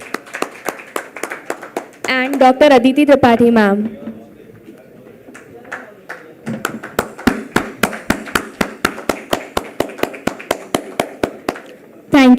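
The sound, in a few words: applause for the panelists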